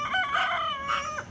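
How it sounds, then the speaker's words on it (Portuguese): Roosters crow among squawking hens in a backyard flock, one drawn-out cock-a-doodle-doo with clucking around it, close and fairly loud, with no voices. "Esses galos não deixam elas quietas."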